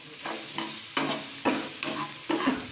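Potato pieces for a capsicum curry sizzle steadily in a hot oiled pan, with a spoon scraping and stirring through them in about six regular strokes, close and fairly loud.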